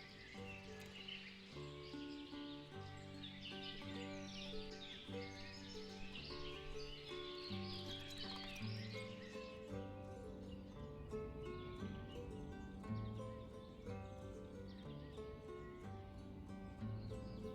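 Horse sounds in the Ostriv city-builder game: soft hoof clip-clops under steady background music and chirping birds, with the animal fairly faint in the mix.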